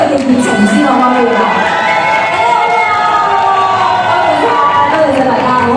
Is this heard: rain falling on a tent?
no